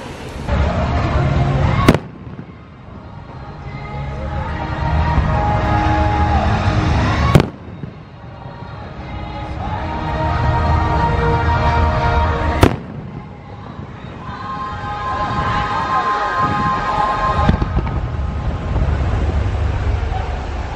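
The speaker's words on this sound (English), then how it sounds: "I'll talk a little bit over the fireworks right now." Fireworks boom loudly at intervals over Epcot, three sharp bangs followed by crackling and a rumbling background of distant bursts.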